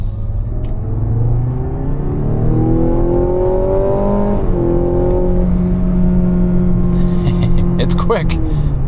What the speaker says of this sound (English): let's do a highway acceleration test. All right, let's floor it.